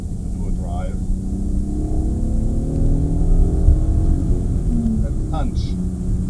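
A warmed-up BMW E36/E39 with an M52 engine, Siemens MS41 control unit and a modified MAF sensor, pulling hard in third gear, its engine note climbing steadily from inside the car under a voice talking.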